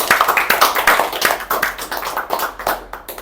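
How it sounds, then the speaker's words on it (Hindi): A small group of colleagues claps for a co-worker named Tahir at an office gathering, with brisk, close hand claps that rise and fall in uneven bursts throughout. "ताहिर के लिए तालियां।"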